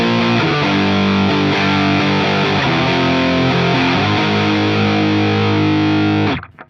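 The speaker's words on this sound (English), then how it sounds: "And then the Rat sounds like this." Electric guitar through a ProCo RAT distortion pedal plays a thick, saturated riff of sustained chords, loud and close, then cuts off at the end with no talking.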